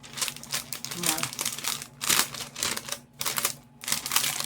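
Wrapping paper for a flower bouquet is folded and handled up close, producing loud, repeated crinkling and rustling bursts in an uneven rhythm, with no talking.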